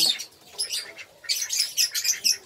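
A bantam hen and her chicks chirp close by, with bursts of high, rapid peeping that come and go in short clusters.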